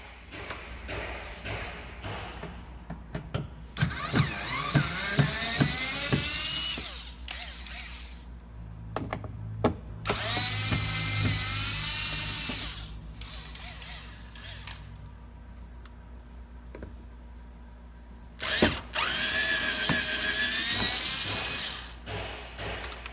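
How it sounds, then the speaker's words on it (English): A power drill spins out Phillips screws from a Honda Ridgeline rear bumper cover, in several whirring bursts that rise and fall in pitch, with quiet taps and handling noises between them. "there's 3 more Phillips screws we need to take out"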